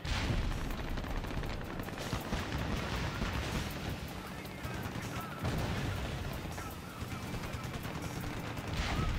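Dense, continuous battle din from a helicopter combat mission in Ace Combat Assault Horizon on PS3, with sustained gunfire and explosive bursts layered into a loud, unbroken wall of noise with no clear gaps.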